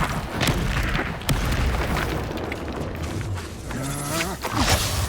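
Confringo spell blasts in Hogwarts Legacy land as booming explosions in a dense, chaotic fight mix. Several sharp bursts come between low rumbles, and a short warbling tone sounds near the end.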